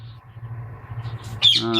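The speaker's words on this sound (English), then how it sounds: "Here's some birds that are on hold, a couple of double factored violet" Pet budgerigars of violet and cobalt colour varieties give a brief, sharp squawking call near the end, preceded by a soft low hum and faint chatter.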